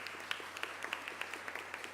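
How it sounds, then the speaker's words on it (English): Scattered clapping from an audience at a gun bill signing by the Rhode Island governor, faint and fairly distant, a thin steady patter with a few sharper claps standing out. "Big round of applause."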